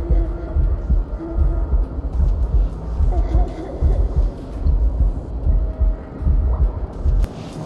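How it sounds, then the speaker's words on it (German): A heartbeat sound effect from the video game Hydrophobia Prophecy thumps loud and low in a steady, repeating rhythm across the whole stretch over a rumbling background hum, with no speech. "Das mit dem Herzschlag echt."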